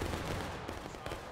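A musket volley crashes out in the Civil War game War of Rights, a loud, dense burst of overlapping shots that quickly fades within about a second.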